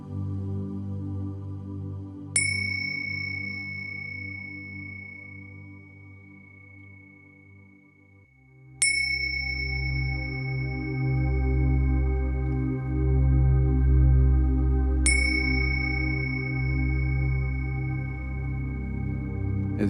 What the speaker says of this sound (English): sound of the bells dissolve into silence